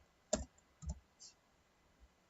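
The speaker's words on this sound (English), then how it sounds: "So I'm typing in Excel" A handful of light, isolated key clicks on a computer keyboard while searching in a spreadsheet program, quiet and spaced out, with a brief burst of two or three taps and a faint later click.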